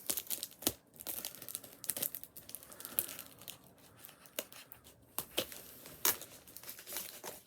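Scissors snip repeatedly through packaging, with crinkling plastic and rustling paper between the cuts, close and fairly quiet.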